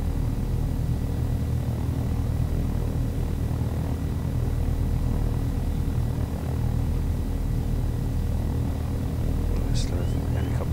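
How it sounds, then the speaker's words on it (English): A helicopter in the Take On Helicopters flight simulator game hums and drones continuously with a steady low rotor and engine tone, moderately loud and unchanging across the stretch, with a brief faint blip near the end. "Let's slow the helicopter down a little bit."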